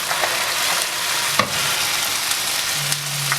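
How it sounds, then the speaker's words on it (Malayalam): Ground paste for butter chicken frying in hot butter, a steady close sizzle with faint stirring clicks and a brief scrape partway through, no talking. "ഇനി നമുക്ക് അതിലോട്ട് നമ്മൾ അരച്ച് വെച്ചിരിക്കുന്ന നമ്മുടെ പേസ്റ്റ് ചേർത്ത് കൊടുക്കാം."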